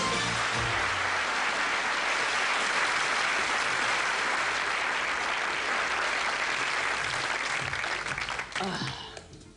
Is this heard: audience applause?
yes